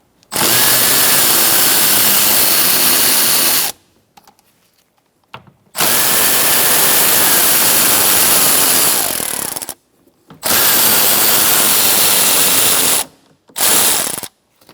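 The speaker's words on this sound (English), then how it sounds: "we're going to take out these 3 bolts with a 10mm socket" A ratchet with a 10mm socket loosening bolts on a 2014-2019 Kia Soul side mirror, three loud, close bursts of fast clicking separated by short pauses.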